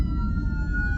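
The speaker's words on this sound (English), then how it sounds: "It's always stressful to see an ambulance coming up behind you." An ambulance siren wails from behind a moving car, its steady tone sounding over the low rumble of the road.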